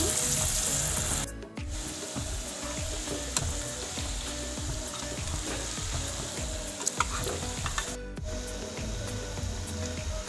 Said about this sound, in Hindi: ऑयल गरम हो गया, अब फ्राई करेंगे।